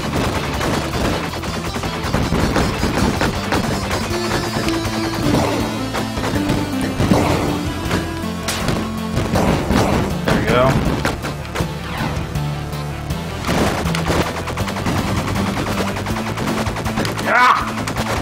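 Rapid gunfire in the action game Bleed, with dense bursts of shots, crashes and impacts running throughout amid game sound effects and speech.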